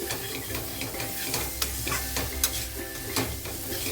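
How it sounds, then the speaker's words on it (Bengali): A spoon scrapes and stirs through sizzling mixed winter vegetables in a pan, with scattered clinks over a constant frying hiss. "সবজিগুলো ভালোভাবে নাড়াচাড়া করে নিয়েছি"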